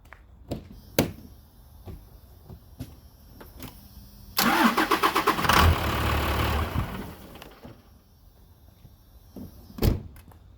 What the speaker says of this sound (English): the old Cummins actually starts fine with one battery